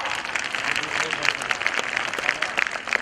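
An audience at a school annual day celebration applauds a class topper, with a steady mass of clapping from many hands that runs the whole time at moderate level.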